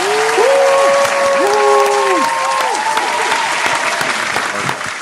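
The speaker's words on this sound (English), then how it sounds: "Round of applause for Rochelle, man." Audience clapping fills a room after a therapy-themed talk session, loud at first and gradually thinning out, with a few whistles and voices mixed into the applause.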